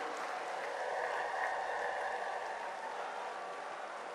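Steady roar of a large crowd clapping at a political rally in Lucknow, Uttar Pradesh, welcoming the Prime Minister; dense, continuous applause held at an even level throughout, with no voices standing out.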